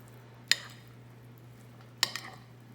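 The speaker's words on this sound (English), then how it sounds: "I'll use this spoon to stir it" A spoon knocks twice against a dish while stirring a cheesy sausage hashbrown casserole, two sharp clinks about one and a half seconds apart, close and clear over a faint steady hum.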